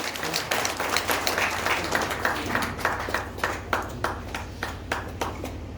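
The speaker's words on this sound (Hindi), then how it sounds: "जोरदार तालियां एक बार फिर से हो जाए आपकी तरफ से।" Audience at a poetry gathering and book launch in Jaynagar, Madhubani, clapping in a loose, uneven stream of individual claps over steady room noise, moderately loud throughout.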